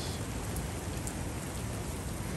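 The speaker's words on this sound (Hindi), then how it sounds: "लगातार बारिश हो रही है।" Continuous rain falling steadily outdoors in Kinnaur, an even broadband hiss with no breaks, moderately loud and close, no voices.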